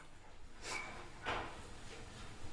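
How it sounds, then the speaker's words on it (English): A door at the back of a meeting room closes faintly and at a distance, heard as two soft knocks over a steady room hum. "if you'll please close the door in the back and have a seat"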